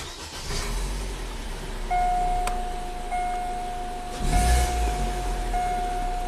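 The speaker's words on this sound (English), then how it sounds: "shut the vehicle off, restart again" An Opel Astra's engine is switched off and cranked back to life, a close steady idle hum with a thin whining tone and a heavier surge as it restarts, no voices.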